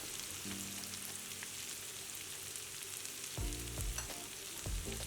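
Green chillies and curry leaves fry in a pan, a soft, steady sizzle close by with faint stirring clatters near the end.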